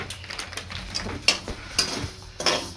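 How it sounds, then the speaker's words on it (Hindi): Flaxseeds, 200 grams, dry-roasting in a pan for methi laddoos and stirred with a utensil: soft intermittent scraping and rustling, broken by three sharper clinks of the spoon against the pan, close and without voices. "अलसी को ऐसे हम भूनेंगे, भून के तैयार करेंगे।"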